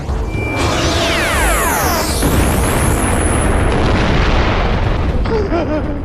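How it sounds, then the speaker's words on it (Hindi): A planet blows apart in a TV sci-fi series explosion effect: a loud, sustained boom with sweeping, whooshing synthetic tones layered over a rumbling blast that roars on for several seconds. "धमाका"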